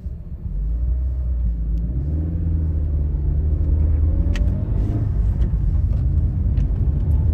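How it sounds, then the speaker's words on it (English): A 2016 Scion iM on a test drive gives a steady low engine rumble and road noise from inside the cabin, with the pitch rising slightly as it accelerates. "now we're going to go ahead and take it on a quick test drive"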